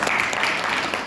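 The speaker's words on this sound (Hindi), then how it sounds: "इसलिए मैं इनके लिए इस बार जोरदार तालियां दी।" An audience at a university cultural dialogue event in Chandigarh breaks into continuous applause, a dense, even wash of many hands clapping at moderate volume with no clear speech.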